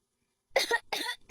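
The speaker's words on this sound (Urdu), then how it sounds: "آپ کو اچانک اتنی کھانسی کیوں ہونے لگی؟" A child coughs three times in quick succession: sharp, close bursts in a quiet room.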